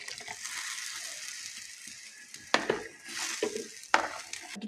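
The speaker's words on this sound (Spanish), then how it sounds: "Voy a enjuagar el vaso con el mismo caldito del pollo" Chicken broth swirls and sloshes in a blender glass being rinsed, a close, moderate liquid churning with a couple of sharp glassy knocks.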